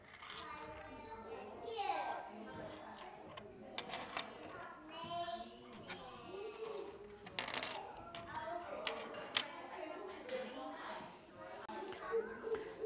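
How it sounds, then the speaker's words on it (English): Preschool children handling and sorting a pile of metal keys on a table, producing repeated light jingling and clinking bursts scattered through the scene, with an adult and children talking over them. "Can you sort out these keys a different way?"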